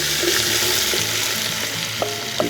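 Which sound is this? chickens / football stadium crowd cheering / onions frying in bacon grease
onions frying in bacon grease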